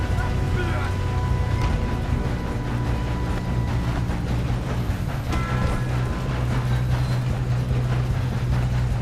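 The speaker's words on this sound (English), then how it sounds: "We have to stop this train." A train in the video game Red Dead Redemption 2 rumbles along continuously with a heavy low roar, rattling and mechanical tones, loud and close throughout.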